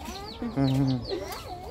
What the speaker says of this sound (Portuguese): É o pintinho, filho. É o neném da galinha.